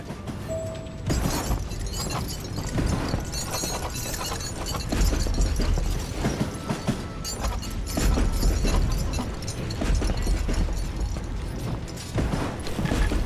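Moving train in Call of Juarez: Gunslinger, continuous rattling, clanking and mechanical clatter that stays loud and steady throughout, with no one talking.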